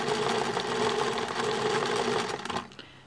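A sewing machine runs steadily up close as it stitches the handle of a tote bag, a fast continuous mechanical whirr that stops abruptly near the end.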